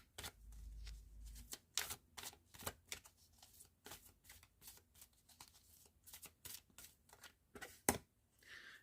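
Quick close bursts of Journey of Love oracle cards being shuffled, riffling and slapping together in uneven clusters, fairly quiet with short pauses between, no talking.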